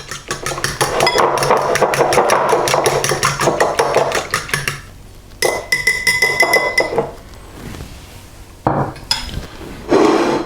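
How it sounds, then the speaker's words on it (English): Sesame oil being beaten into eggs for Chinese egg fried rice: a fast run of rhythmic clinks and taps against a bowl, loud and close, pausing midway, then resuming in short bursts, with no talk. "So a teaspoon of sesame oil into the egg. And just mix that in."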